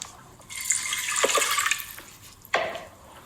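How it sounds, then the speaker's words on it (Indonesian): Water, about 200 ml, poured onto palm sugar in a pot for boiling: a steady splashing pour lasting over a second, a brief pause, then a second shorter splash, close and moderately loud. "Pertama-tama kita rebus dulu gula merahnya dengan 200 ml air."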